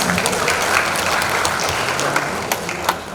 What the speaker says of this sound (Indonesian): Tepuk tangan untuk masyarakat kita.